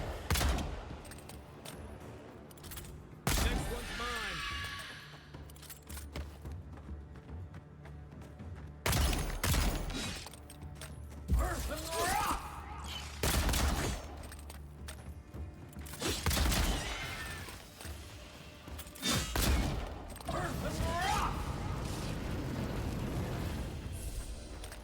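Pistol shots ring out in the video game Avowed, several separate sharp bangs spaced irregularly across the stretch over a low background hum, with no talk.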